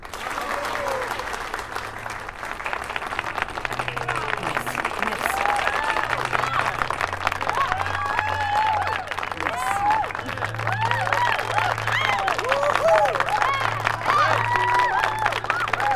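Sustained audience applause for a three-time woman of the year award winner at a ceremony, a dense, steady wash of many hands clapping with crowd murmur throughout, loud and continuous with no break.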